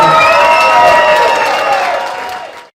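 Applause and cheering from the audience at a stand-up comedy show, a loud burst of clapping with a few whoops that holds strong and then tapers off over a couple of seconds.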